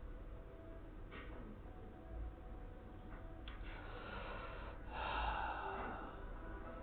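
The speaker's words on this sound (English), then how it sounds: "Pardon me again for that sniffles." A series of quiet sniffs and snorts from one person, a few brief intakes spread out over the quiet stretch, ending in a louder, longer sniffle near the microphone.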